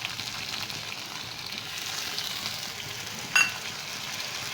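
Bhola fish in masala frying over a low flame, a steady soft sizzle throughout with one brief sharper crackle near the end.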